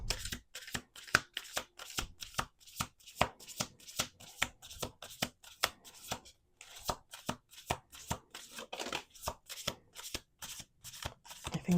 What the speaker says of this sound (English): Let's do one more shuffle.